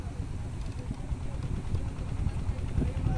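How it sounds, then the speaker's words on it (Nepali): A small motorboat on the Ganges, heading upstream against the current, chugs with a low, steady idling engine hum and slight vibration, continuous and moderately close, with faint background activity. "हेर्नुहोस् कसरी पानीको उल्टो दिशामा त्यो मोटरबोट आइरहेको छ।"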